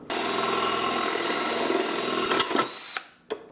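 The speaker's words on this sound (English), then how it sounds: "I gotta drill one more hole" A power drill bores a hole in a plastic headlight housing for a Colorado ZR2 custom headlight build, giving a steady close whine and grind for about two and a half seconds before stopping with a few clunks.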